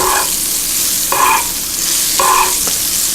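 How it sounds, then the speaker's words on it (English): Butter sizzling loudly in a pan while halibut is basted, a close, continuous frying hiss with a few brief scraping strokes of a spoon. "that butter will continue to cook, and it turns a little bit brown"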